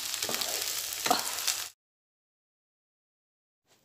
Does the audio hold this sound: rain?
no